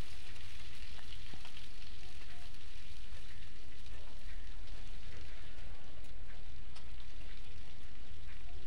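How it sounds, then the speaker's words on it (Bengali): Boiled potatoes fry with turmeric powder in hot oil, giving a continuous crackling sizzle with small pops and stirring scrapes, close and steady with no voices. "একটু হলুদ গুঁড়ো দিয়ে ভেজে নিচ্ছি, ভেজে নিব লাল করে"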